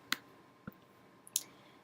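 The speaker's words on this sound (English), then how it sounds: "And I'm going to start clicking" A few sharp, quiet computer mouse clicks, spaced irregularly and close, set against a faint background hum.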